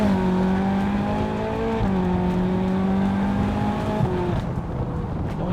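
A 2009 Ferrari California accelerates hard uphill from first gear, its engine note climbing in pitch and dropping at each upshift, loud and close throughout.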